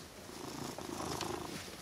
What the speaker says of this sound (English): better go and feed this cat.